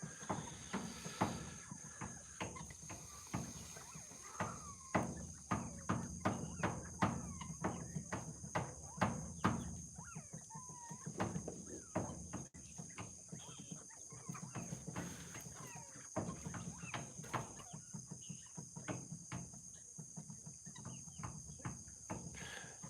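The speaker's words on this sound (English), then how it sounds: "I got a rain frog right above me hollering" A rain frog hollers from just overhead in a series of sharp, repeated chirps. The chirps are faint and come in bursts over a steady high insect hum in a quiet outdoor setting.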